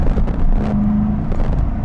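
A 2020 Corvette C8 Stingray shifts gear while driving, its engine note a loud, steady rumble with wind noise over the cabin, briefly changing pitch as the gear engages.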